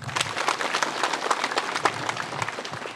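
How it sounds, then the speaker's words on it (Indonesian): An assembled crowd at a shrine inauguration claps for Jubata, a brisk round of applause with uneven, lively hand claps lasting a few seconds. "Tepuk tangan untuk Jubata."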